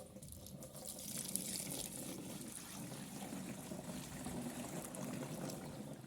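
Bordeaux mixture, a copper sulfate fungicide for grapevines, is poured into a container as a steady, close liquid splash and trickle running throughout without pause.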